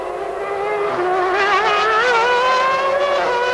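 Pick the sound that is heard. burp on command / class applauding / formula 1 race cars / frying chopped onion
formula 1 race cars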